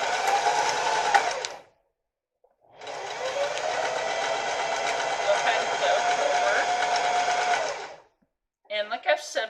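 A sewing machine on its serger setting runs steadily in two long bursts separated by a short pause, loud and close. Brief talk follows at the end.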